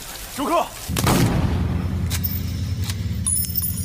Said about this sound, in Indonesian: menghujani Ruan dengan tembakan shotgun